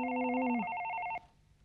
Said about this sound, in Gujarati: Phone phone.